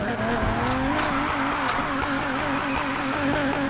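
Nissan 350Z drifting in Need for Speed Heat: a steady, loud engine drone with continuous tire squeal and skidding runs throughout, with no break.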